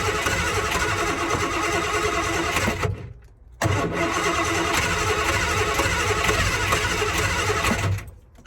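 A Triumph Vitesse engine cranks hard on its starter in a long continuous churning burst, stops briefly, then cranks again for several more seconds before cutting off, close and loud with no talk.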